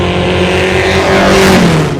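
A 1928 Bugatti Type 35C Grand Prix car, the original-condition Red Bug, accelerates with a loud, close engine roar, its pitch climbing and then dropping near the end as if shifting or passing.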